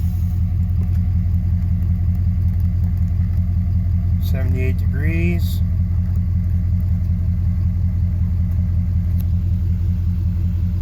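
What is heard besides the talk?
diesel truck engine running after start-up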